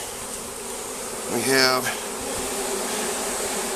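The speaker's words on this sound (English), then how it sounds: "all these bees in here" A swarm of bees buzzes steadily and up close in a capture box, with one louder bee passing by the microphone as someone speaks briefly over the hum.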